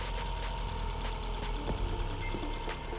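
A 1.6-litre car engine idles after a jump start with a steady low rumble and a regular ticking knock, fairly close and continuous throughout.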